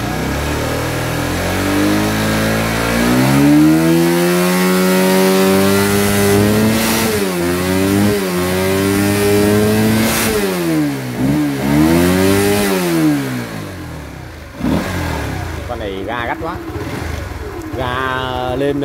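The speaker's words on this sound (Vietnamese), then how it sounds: "Bây giờ mình sẽ ga thốc lên nhá. Mình sẽ mồi ga từ từ thôi." Honda Winner motorcycle engine revved in a workshop, rising and falling through repeated throttle blips that climb to high revs, loud and close, with a brief drop near the end before revving resumes.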